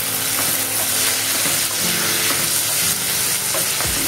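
Green chilli thecha stir-fried in a pan crackles with a loud, continuous sizzle and repeated spatula scrapes and knocks against the pan, close up, with no voices.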